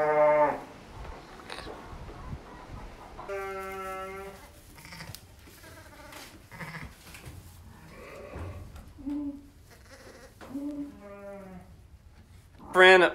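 Sheep and lambs bleating on a farm in lambing season, several wavering bleats near and far with pauses between them, mixed with someone talking.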